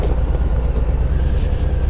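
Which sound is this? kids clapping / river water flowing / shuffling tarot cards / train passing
train passing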